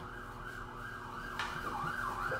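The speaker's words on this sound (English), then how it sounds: "Oh, more sirens?" A wailing emergency vehicle siren sweeps up and down as it passes on a nearby road, steady and fairly loud throughout, with its pitch rising and bending near the end.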